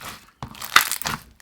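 Crunchy slime gets squeezed in the hands, giving a few quick crackling, crinkling bursts with short pauses between them, close and fairly soft, with no talking.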